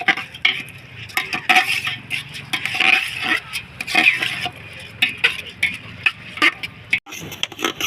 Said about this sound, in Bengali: দিয়ে দেবো ধুয়ে রাখা মুগ ডাল, ভিজিয়ে রেখেছিলাম। দিয়ে ভাজবো, দিয়ে ওটাকে একটু ভাজবো।